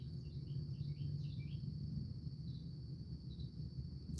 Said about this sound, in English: enjoying the sound of the crickets and the birds in the morning, waking up